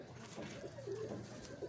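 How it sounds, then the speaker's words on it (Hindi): A Madrasi pigeon coos in soft, repeated rolling phrases, close by and fairly quiet against a low background hum. "ये इनके मद्रासी कबूतरों में से भाई।"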